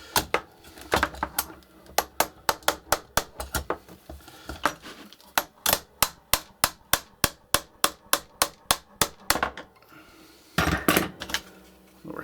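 Repeated hammer taps knocking apart an airsoft AK47, bursts of quick metallic strikes in fast runs with short pauses and a final cluster, close and crisp, no speech.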